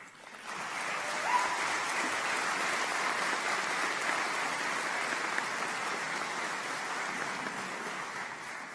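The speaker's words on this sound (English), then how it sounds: "we ask that you honor these students by giving them a round of applause" A crowd of guests applauds graduating students at a health and wellness school convocation, sustained, even clapping from many people that swells in quickly and carries on steadily without talk.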